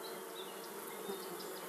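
Honey bees buzz inside a hive, a dense continuous drone of many wings with faint individual whines rising above it, steady and close with no talking.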